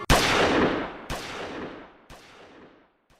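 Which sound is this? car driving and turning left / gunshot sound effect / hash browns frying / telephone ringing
gunshot sound effect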